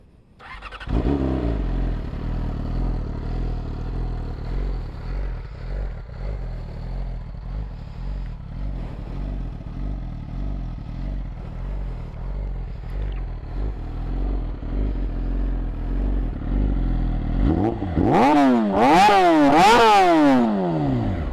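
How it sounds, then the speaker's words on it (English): A 2017 Yamaha R6 sportbike with an Akrapovic exhaust starts up and idles steadily and close, then near the end revs sharply in several rising and falling blips. "So I'll just start the bike so you can hear."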